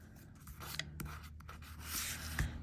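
Scissors trimming metal tape for craft art, soft close snips and rubbing scrapes over faint background hum, with no talking.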